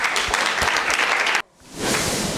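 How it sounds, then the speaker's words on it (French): An audience at a youth leadership talk breaks into lively applause with distinct, close claps. The sound cuts off abruptly partway through, leaving a brief gap before a softer, steady crowd murmur rises. "Très bien, applaudissons pour..."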